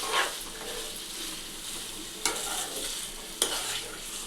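Elakkaya (wood apple) chutney stirs and fries in a pan, with a soft, steady sizzle at low volume and two sharp clicks of the spoon against the pan.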